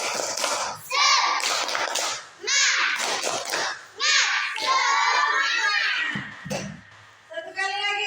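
Children at a school gathering perform a clapping chant in unison, loud rhythmic bursts of claps mixed with shouted chanting voices, with a few brief pauses between phrases.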